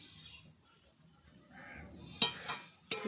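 Boiled greens are turned in a pan while the water cooks off, giving soft stirring rustles followed by two sharp, close metallic clanks of a utensil against the pan near the end.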